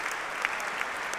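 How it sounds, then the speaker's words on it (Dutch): Audience applause for mezzo-soprano Marina De Liso after her turn as Juno in Eccles' opera Semele, performed by La Risonanza at an early-music festival in a concert hall: steady, dense clapping heard from among the crowd, with a few sharper claps standing out. "Bijval voor haar."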